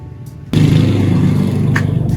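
A used Kawasaki Ninja RR motorcycle engine starts running abruptly after a brief quiet moment, then settles into a loud, close, steady idle with a rapid buzzing putter.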